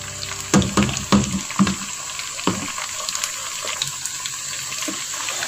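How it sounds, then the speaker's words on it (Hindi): Chicken pieces fry in oil in a pan, giving a steady close sizzling hiss with a few louder crackles and spits early on before settling into a softer continuous fizz. "खूबसूरत सा चिकन अभी फ्राई होने दें"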